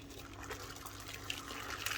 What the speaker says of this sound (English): And then we're going to top that up with boiling water.